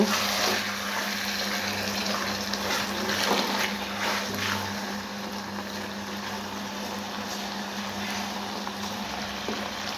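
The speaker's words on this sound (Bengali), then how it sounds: "এবার মেটেগুলো দিয়ে দেবো। মেটেগুলো দিয়ে আবার কষিয়ে নেব।" Liver pieces frying in a hot pan with oil, being sautéed for a potato and liver curry; a steady, loud hiss and sizzle runs throughout with no talking.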